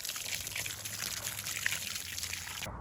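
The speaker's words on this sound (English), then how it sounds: "I'm not going to be shy about giving them water" Water streaming onto garden plants and tomato beds in spring, a steady close trickle and splash that runs for nearly three seconds before cutting off.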